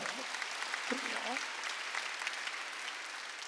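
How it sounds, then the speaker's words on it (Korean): Quiet clapping from a church congregation during a Wednesday worship service, soft and continuous, with a voice briefly speaking over it. "박수 치라."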